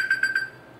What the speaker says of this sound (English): that's his alarm for meeting